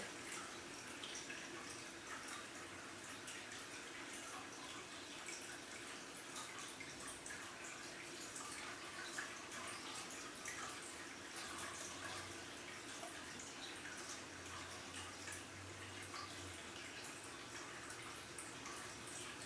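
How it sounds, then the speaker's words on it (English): Water running steadily, as from a faucet or stream, a continuous faint hiss and splash lasting throughout at low volume with no voices. "Running water from a faucet in a stream."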